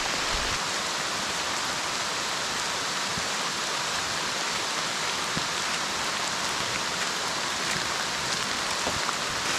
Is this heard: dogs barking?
no